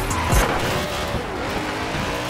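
BMW i8 hybrid with electric and petrol engines drifting in Forza Horizon 4, a loud continuous engine roar mixed with tire squeal and a brief sharp swell near the start, no voices.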